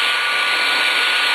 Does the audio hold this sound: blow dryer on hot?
yes